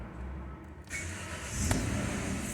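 A 2016 Hyundai i10 1.0 Blue Drive cranks briefly and its engine catches, settling into a steady low idle rumble, heard fairly close and alone.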